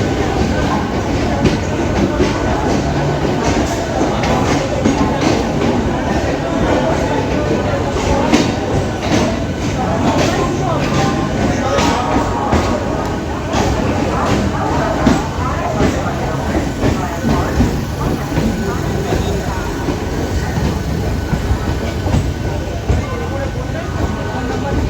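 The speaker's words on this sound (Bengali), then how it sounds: "আজকে আমাদের ট্রেন তারকেশ্বর লোকাল, যার সাথে আজকে রয়েছে হচ্ছে হাওড়া কারশেডের 12 কোচের অ্যালস্টম রেক" A Tarakeswar local train, a 12-coach Alstom rake, runs continuously with a loud, steady roar and rattle of wheels on track, and voices are heard intermittently over it.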